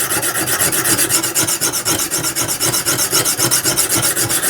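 Knife blade rasping back and forth on a Lansky extra coarse 70 grit sharpening stone, a steady rhythmic gritty scrape with about four strokes a second, close and loud with no voice.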